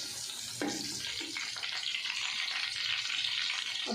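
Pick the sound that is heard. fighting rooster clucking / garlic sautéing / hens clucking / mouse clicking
garlic sautéing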